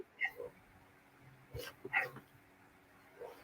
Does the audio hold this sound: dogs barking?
yes